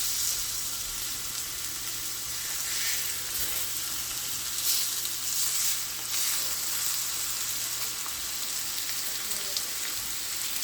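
Meat seared in a hot pan with rosemary gives a steady, fairly loud sizzle and crackle throughout, with no talking over it.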